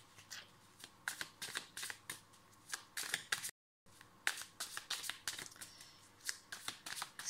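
Tarot cards being shuffled by hand, a run of crisp riffling bursts close up, briefly interrupted by a short gap partway through, then resuming in the same quick rhythm.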